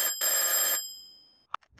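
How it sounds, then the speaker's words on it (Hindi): A cartoon telephone rings in a house, a loud synthetic ring tone with a sustained harmonic burst that stops abruptly, followed by a couple of short knocks and faint clatter. "चाचा चौधरी के घर पर टेलीफोन बजता है।"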